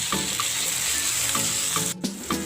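Chopped tomatoes stirred in a hot frying pan for a Malabar fish roast, giving a continuous close sizzle with occasional soft scrapes and taps of the spoon.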